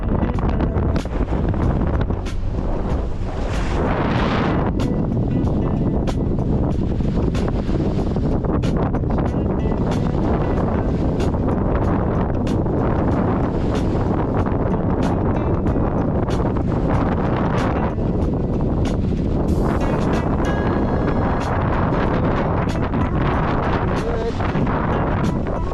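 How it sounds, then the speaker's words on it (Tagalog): Steady wind buffets the microphone in an open outdoor area in Bahrain, a continuous loud roar of gusts and rumble filling the whole stretch without a break. "Medyo mahangin dito sa lugar na to kasi open na siya."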